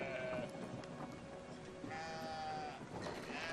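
Sheep bleat in a few wavering calls in Brothers: A Tale of Two Sons, near and clear over a soft game ambience, with no talking.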